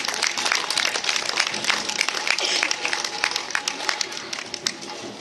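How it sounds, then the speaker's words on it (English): A crowd at EPCOT's Morocco pavilion holiday entertainment claps energetically, with distinct individual claps standing out close by, the applause continuing steadily throughout. "Give them a round of applause."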